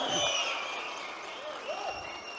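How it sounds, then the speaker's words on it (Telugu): An audience at a political event held for auto drivers applauds, giving a dense, fairly soft wash of clapping that fades slightly toward the end. "ఒక్కసారి అందరూ చప్పట్లు కొట్టి కృతజ్ఞతలు తెలియజేయమని కోరుతా ఉన్నా"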